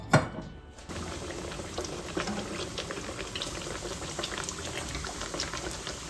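Mung beans simmering in a covered pot over medium-low heat, a steady close bubbling and gentle boiling hiss with scattered pops, continuous throughout.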